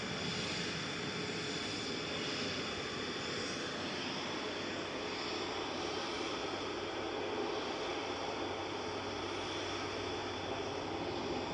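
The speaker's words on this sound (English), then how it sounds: "So one of the loitering EasyJets is about to line up now from uniform" An EasyJet Airbus A320 Classic lines up for departure at Manchester Airport, giving a constant broadband engine roar with a faint low hum, steady and unbroken from start to finish, with no one talking.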